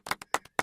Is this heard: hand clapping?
yes